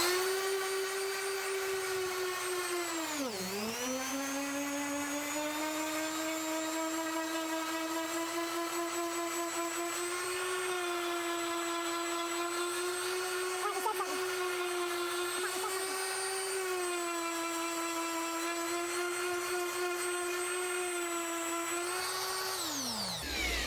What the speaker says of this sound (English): this is just a 120 on here, and I just want to sand that smooth